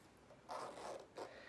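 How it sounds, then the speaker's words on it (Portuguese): A zipper is pulled shut on a bag pocket that holds earphones. It gives two short, close, rasping zips in a quiet room. "Fechou aqui o zíper."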